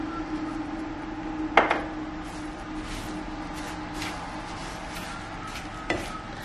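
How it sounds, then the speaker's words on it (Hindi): Sugar going into milk powder for barfi, a spoon scraping and clinking against a metal bowl over a faint steady hiss, with two sharper knocks standing out briefly. "तो अभी हम इसमें शुगर डाल देते हैं"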